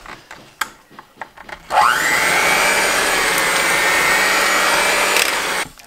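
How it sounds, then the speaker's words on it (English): An electric hand mixer whirs loudly and steadily as it starts mashing cooked potatoes in a home kitchen, preceded by a few knocks and clatters before the motor kicks in and runs continuously. "I have a mixer and I just start in mixing them"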